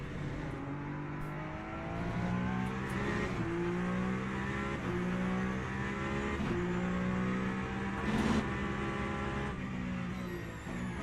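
Race car engine in the video game Le Mans Ultimate, a loud continuous droning whine with rising and falling pitch as the car accelerates and shifts through gears, steady throughout with brief clicks over it.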